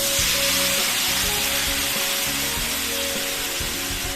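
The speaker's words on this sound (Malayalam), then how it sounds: "ഇനി നമുക്ക് അരിഞ്ഞു വെച്ചിട്ടുള്ള തക്കാളി ഇട്ട് കൊടുക്കാം." Chopped tomato hits a hot pan, setting off a loud, dense hiss of sizzling that holds steady for several seconds over a low droning hum, with nobody talking.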